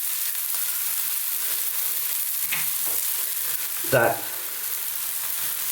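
Black urad dal sizzles steadily in a pan for a vegan Indian black dal, with a scrape of stirring near the end and a brief spoken word under the frying.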